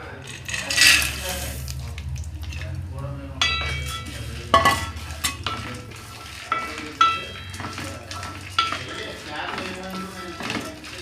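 Dry fruits fry in ghee in a pan over high flame, giving a soft continuous sizzle under a voice, with scattered clinks and scrapes as a spoon stirs them.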